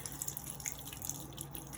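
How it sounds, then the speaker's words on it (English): Tap water runs steadily over hands and arms at a sink during a surgical scrub, a continuous splashing wash with small droplet patters, close and fairly quiet, with no one talking. "rinse the hands and arms thoroughly"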